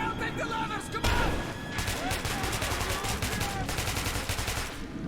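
Bursts of gunfire in the game Metro 2033, a loud, continuous rapid volley with sharp crack-like transients over a dense rumbling backdrop, overlaid with shouting and tense game noise.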